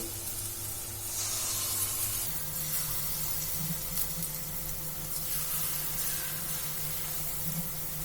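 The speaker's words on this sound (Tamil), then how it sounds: "இப்போ ரெடி பண்ணி வச்சுருந்த மாவு வந்து கொஞ்சம் கொஞ்சமாக எடுத்து இதில் வந்து நம்ம போண்டா மாதிரி போட்டுக்கலாம்" Small spoonfuls of bonda batter frying in hot oil make a steady, close, dense sizzle and hiss that carries on without a break, with no voices over it.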